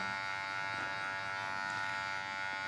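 Electric hair clippers buzzing steadily at close range while trimming and tapering a man's haircut, a constant even hum with no talk.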